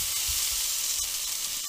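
Potatoes for Bombay potato fry in a hot pan with a steady, dense sizzle, loud and close, broken by faint clicks of stirring.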